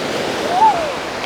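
Surf at Moorkkam beach near Point Pedro in Sri Lanka gives a brief, steady wash of breaking waves, fairly close and loud, with a faint hint of a voice.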